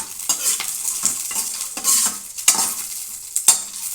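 Red chillies frying in a pan for a Rayalaseema-style chutney, a close, steady sizzle and crackle broken by regular scraping stirs of a spatula, with no voices.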